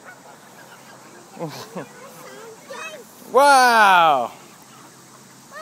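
Geese honking near a pond while being fed bread, with a few short honks early and then one loud, drawn-out nasal honk close by, and a person's brief exclamation in between.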